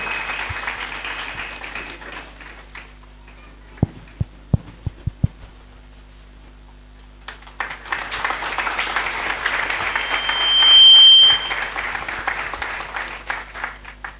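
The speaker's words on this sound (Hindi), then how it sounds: "तालियों के साथ उनके अभिनंदन करेंगे।" Audience applause for graduating students at a Bible college convocation, a sustained wash of clapping that fades to near silence with a few isolated claps, then swells again and carries on to the end.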